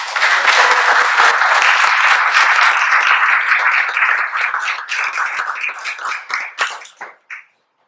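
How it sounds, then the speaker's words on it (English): An audience gives a steady round of applause at a memorial diorama dedication. The dense, loud clapping holds for several seconds, then thins into scattered claps and stops. "give him a round of applause"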